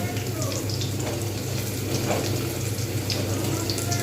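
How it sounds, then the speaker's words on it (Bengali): Lentils frying in hot oil for a bitter dal: a dense, steady bubbling hiss with a low hum beneath, close and constant throughout. "আমি এই তেলেতেই কিন্তু আমি ডালটা ভাজবো"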